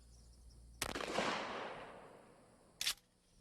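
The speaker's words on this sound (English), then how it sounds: "We try it first with number 9 Birdshot." Shotgun loaded with number 9 birdshot fired at soft body armor on a mannequin, one sharp loud blast with a decaying tail, then a second short sharp report.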